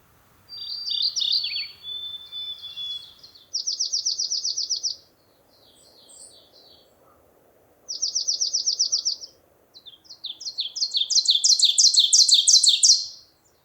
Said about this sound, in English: Right now we have white-throated sparrows and some ovenbirds in the back singing